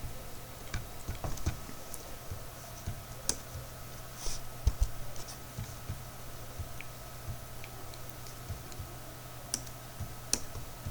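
Keys being typed on a computer keyboard while entering command prompt commands to make a bootable USB flash drive, with soft scattered clicks and taps over a steady low hum, quiet and fairly close.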